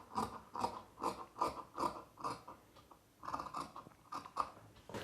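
A marked blouse fabric piece is cut in a quick series of close, crisp snipping crunches, about six in a row, a brief pause, then several more.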